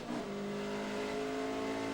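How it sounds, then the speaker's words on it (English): Caterham racing cars with Vauxhall 2-litre 16-valve engines rev hard at high pitch on a circuit, a loud, steady sustained engine note. "they really are revving the nuts off these Vauxhall 2-litre 16-valve engines"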